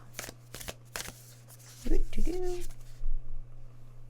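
Oracle cards are shuffled by hand during a tarot-style reading, giving a few quick riffling bursts followed by softer, sliding card sounds, close and clear, with no talking over them.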